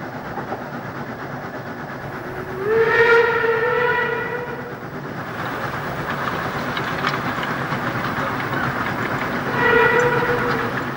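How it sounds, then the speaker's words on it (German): A steam train passes slowly by the listener with a loud rumbling roll of wheels and carriages, while a whistle sounds in a drawn-out blast and briefly sounds again later. "Es ist immer wieder ein schönes Erlebnis, wenn ein Dampfzug langsam am Betrachter vorbeizieht."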